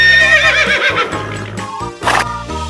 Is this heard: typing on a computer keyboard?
no